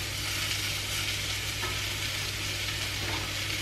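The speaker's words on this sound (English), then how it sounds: "Give it a stir." Spinach wilting in a hot egg pan gives a soft, continuous sizzle while being stirred, with a low steady hum beneath and a brief knock right at the end.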